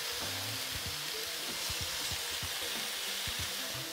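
Beef browning in oil in an electric skillet, a dense, loud, continuous sizzle and spatter with low bubbling crackle underneath, close up and with nobody speaking.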